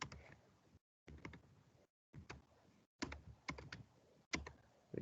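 Computer keyboard typing in short bursts of rapid clicks, separated by brief silent gaps, close and clear with no talk.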